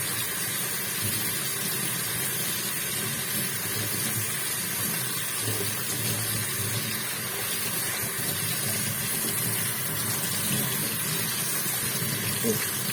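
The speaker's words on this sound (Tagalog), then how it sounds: "Pero magalagpot ang gripo sa kusog." Strong, steady rush of water pouring from a tap, a constant broadband gush with a low rumble underneath and no pauses.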